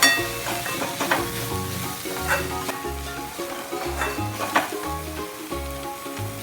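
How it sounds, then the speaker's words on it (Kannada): Grated coconut and onion roasting in a pan for honagone soppu saaru, with soft frying and stirring scrapes under steady background music. "ತೆಂಗಿನಕಾಯಿನೂ ಇದು ಈರುಳ್ಳಿ ಜೊತೆಗೆ ಒಂದು ಸ್ವಲ್ಪ ಲಾಸ್ಟ್ನಲ್ಲೇ ಹುರ್ಕೊಂಡ್ರೆ ಚೆನ್ನಾಗಿರುತ್ತೆ."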